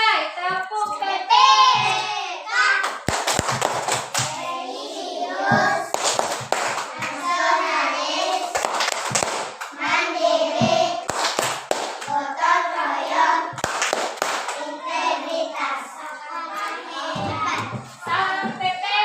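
A group performs the Tepuk PPK clapping chant in a school training session, with sharp claps in rhythmic patterns alternating with spoken and chanted lines from children's and adult voices.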